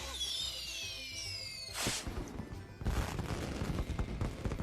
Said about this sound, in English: that was the shittiest fireworks ever